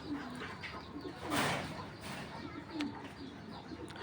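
A big-sized pair of Mili breed pigeons coos softly in low, throaty murmurs that repeat over a few seconds against a noisy background.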